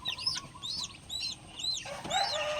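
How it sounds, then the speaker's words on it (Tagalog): Several native chickens and newly hatched chicks clucking and chirping close by, a busy overlapping chorus of short calls that grows louder toward the end. "palalakihin na naman kaming mga native na manok"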